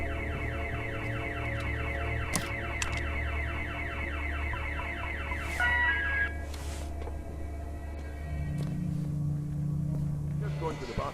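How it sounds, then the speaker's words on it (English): An alarm in The Occupation video game wails with a fast repeating electronic warble, then gives way to a lower steady tone, loud and continuous behind faint background sounds. "there was an alarm that went off earlier on"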